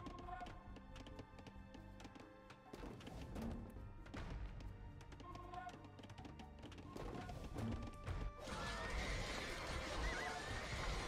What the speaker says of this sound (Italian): cavalli nitrire